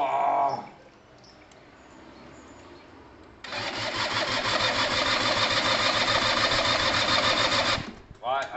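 A Gilera DNA 125 scooter engine turns over and fires, then runs at a steady buzzing idle for several seconds before cutting off, with a brief voice at the very end.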